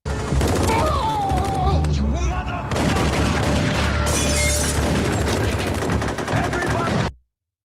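Gunfire from the TV crime drama Power Book IV: Force plays as a loud, dense barrage of overlapping shots and booms, mixed with voices and score. It stays constant for about seven seconds, then cuts off abruptly.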